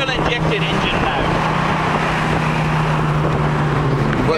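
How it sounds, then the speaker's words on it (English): A Mercedes-Benz 230SL Pagoda W113 with its fuel-injected engine cruising with the top off, a steady low drone mixed with wind rush, close and continuous, with faint ticks at the start. "Barry actually said the engine note, that's a fuel injected engine note."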